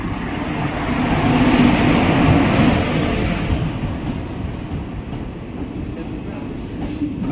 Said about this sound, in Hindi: यहाँ एक ट्रेन आ रहा है